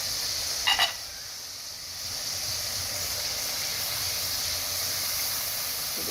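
Leftover masala fries in a pan for Hyderabadi baingan, giving a steady, close sizzling hiss that runs throughout, with one brief crackling burst near the start and no voices.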